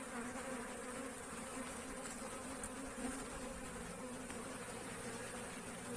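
Honey bees drone inside a wintering hive being checked on dry sugar feed, a faint, constant buzzing hum with no breaks and no voices.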